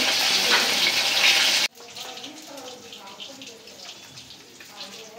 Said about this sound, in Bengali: মাছটা ভাজা হয়ে গেছে, উল্টাই দিই। এক পিঠ ভাজা হয়ে গেল।